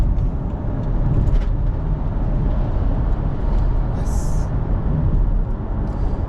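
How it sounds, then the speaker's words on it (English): Six-cylinder diesel car engine pulling hard during an overtake on the road, a steady loud drone with road and tyre noise throughout, no speech. "6-cylinder diesel."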